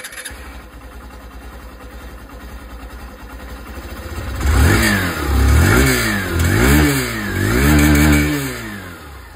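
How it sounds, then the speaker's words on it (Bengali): A 2025 Hero Super Splendor 125 Xtec motorcycle idles with a low rumble, then the engine revs loudly several times in rising and falling bursts, close and strong. "চলুন তবে বাইকের যে আওয়াজ সেটাও আমি আপনাদেরকে এখানে একবার শুনিয়ে দিই।"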